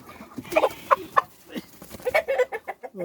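Original Tiger breed roosters cluck and squawk in short, irregular bursts up close while being handled for an RDB vaccine, their calls sharp against a quiet background.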